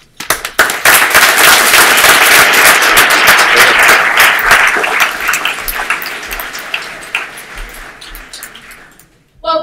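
Audience applause at a lecture, loud close clapping from a crowd that swells quickly, holds, then tapers off before a voice begins speaking at the end.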